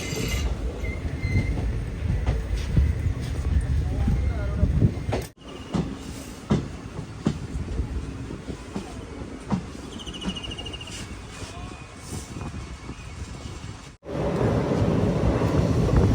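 Mangaluru Express pulling into Kannur railway station, a steady rumble of wheels and carriages with wind noise and faint squeals, broken by two brief cuts, no voices heard.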